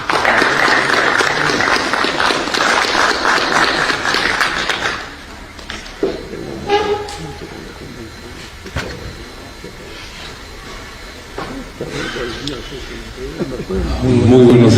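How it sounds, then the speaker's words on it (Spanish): Audience applause at a congress on the Diablada fills the hall loudly for several seconds, then fades into scattered claps and murmuring, with a few voices talking near the end. "Lo recibimos con un voto de aplauso."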